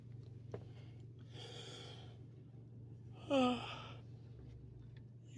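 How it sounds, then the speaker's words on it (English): A person yawns, with a quiet breathy exhale followed by a longer drawn-out breath that ends in a short voiced tail, heard over a low, steady background hum. "Yawning my head off."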